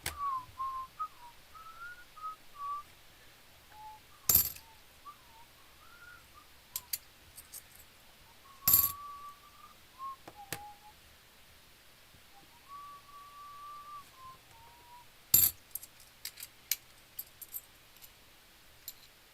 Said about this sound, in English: Yes, I was whistling.